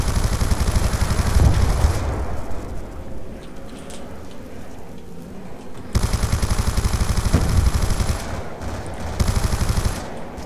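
Rapid automatic gunfire in Black Ops 2 Zombies on the Town map, dense bursts of machine-gun shots in two long volleys separated by a quieter pause, loud and close.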